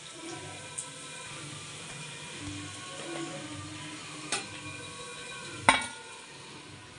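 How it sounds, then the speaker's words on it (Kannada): Vada frying in hot oil, a steady low sizzle and bubbling throughout with a few faint clinks of a utensil, no voices. "ಈ ಥರ ಕರ್ಕೋಬೇಕಾಗುತ್ತೆ ನೀಟಾಗಿ ಎಣ್ಣೆಯಲ್ಲಿ"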